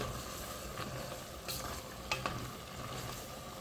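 A spoon stirs mung bean stew with pork and shrimp in a pot, giving soft scraping and clinking strokes over a steady sizzling bubble, fairly quiet and close with no talking.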